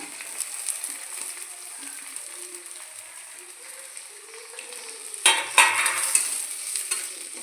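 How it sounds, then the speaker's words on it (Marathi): Chopped onion sizzles in hot oil in a pan as poha is prepared, a steady low frying hiss that jumps louder with crackling bursts partway through when stirred. "आता मी याच्यात अजून एक चम्मच तेल टाकते नंतर मी याच्यात टाकते कांदा"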